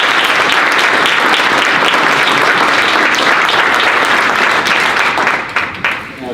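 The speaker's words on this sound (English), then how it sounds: "Let's give Matthew and Al another round of applause." A luncheon audience at a Veterans Day event applauds, with dense, steady clapping throughout that thins slightly at the very end.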